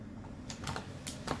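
A 4 GB RAM stick being pressed into a motherboard slot during an AMD Ryzen 2200G PC build gives a few sharp, close clicks spaced apart, with no talking.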